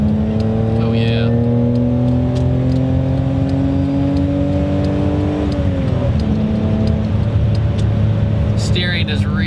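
A BMW E30 drives and corners, its engine holding a steady loud drone with tyre and road noise that shifts pitch midway through the turn, continuous throughout, with no talk over it.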